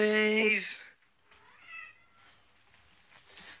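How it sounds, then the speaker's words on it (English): A nearby cat gives one loud, drawn-out meow, followed by quieter, softer mews. "There's a cat."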